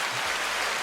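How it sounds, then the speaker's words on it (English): A canned applause sound effect triggered from a button, a brief, dense burst of crowd clapping and cheering, loud and uniform for under a second. "I think that's an applause moment."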